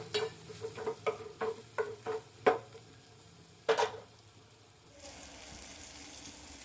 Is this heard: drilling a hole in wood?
no